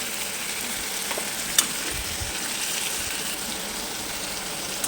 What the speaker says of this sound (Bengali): এবার আমি ম্যারিনেশন করে রাখা চিকেনটা দিয়ে ভেজে নেব